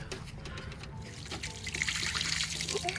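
Collected dehumidifier water pours out of a container in a soft, steady trickle that grows a little louder toward the end, with faint background noise and no talk.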